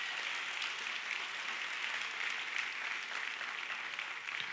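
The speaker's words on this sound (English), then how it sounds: "everybody give the Lord a hand clap for that right there" A church congregation claps for the Lord in sustained, dense applause that holds steady and fairly loud throughout, with no voices over it.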